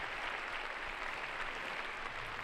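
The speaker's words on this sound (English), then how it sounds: "Getting a nice ovation from the crowd here in Jesolo." Spectators at the 2019 Jesolo Trophy junior gymnastics final in Italy give a steady, even ovation, a continuous wash of arena applause heard from a distance with no talking.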